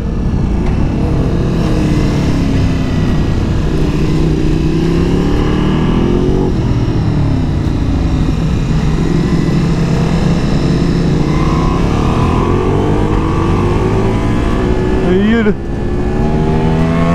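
Loud motorcycle engine revving continuously during a rider race, pitch climbing and dropping as it shifts into second gear, with a voice briefly speaking over it.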